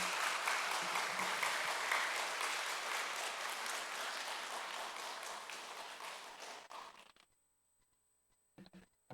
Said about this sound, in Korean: 우리 목사님 나오실 때 우리 크게 환영의 박수 하시겠습니다